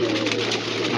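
Pigeon cooing from a flock that includes white and fitki-line birds, a low steady murmur running continuously with no voices.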